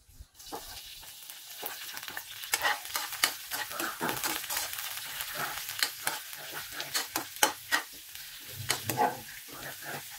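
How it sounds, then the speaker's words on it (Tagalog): Udon noodles with sardines stirred and fried in a pan, a steady sizzle broken by repeated scraping stir strokes at an uneven rhythm, close up with no talking. "Ari mga kami, magluto na ta sa atong udong with sardinas."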